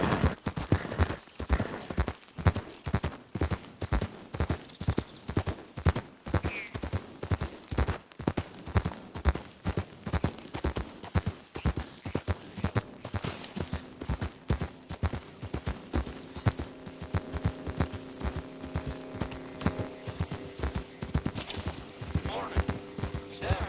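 Horse hooves clip-clop steadily in Red Dead Redemption 2, a regular walking rhythm of close hoofbeats running throughout, with background game sounds and some talk mixed in.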